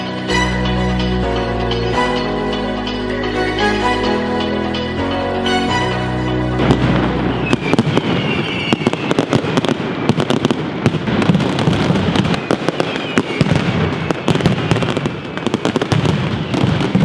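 Mascletà fireworks at Plaza del Ayuntamiento in Valencia: music plays first, then a relentless barrage of loud, rapid-fire cracks and booms takes over, dense and continuous to the end.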